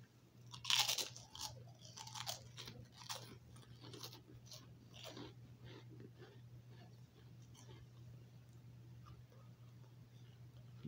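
Goya barbecue-flavored fried pork rinds crunched close to the mic, a few loud crisp bites early followed by softer ongoing chewing over a low steady hum.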